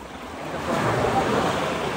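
Sea waves rushing up onto the shore, a broad loud wash that swells and holds steady with wind buffeting the microphone, close by and with no voices.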